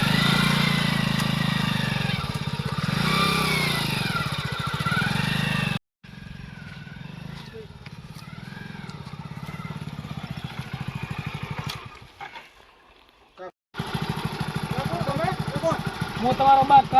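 A motorcycle engine runs with a steady, mid-pitched idle that drops out and returns, while people talk over it throughout.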